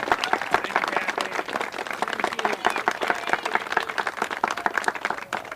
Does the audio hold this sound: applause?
yes